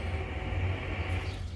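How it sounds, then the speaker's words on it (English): A tractor drives past outside near a home driveway, a steady low engine drone that stays fairly loud and even throughout without any voices. "Another tractor coming."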